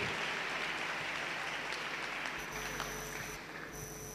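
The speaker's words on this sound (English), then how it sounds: "Clap your hand if you are excited." A church congregation claps together during a service, a steady wash of many hands, fairly faint and distant, thinning slightly toward the end.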